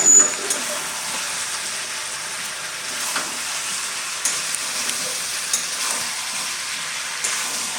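Duck meat frying in an uncovered pot for a thin winter curry, a steady close sizzle with faint crackles and a few soft scrapes, no talking.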